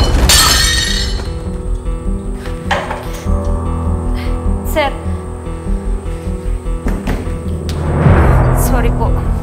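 Something breaks with a sharp shatter at the start, loud and close, in a tense indoor domestic scene, followed by a low thump later; people talk throughout.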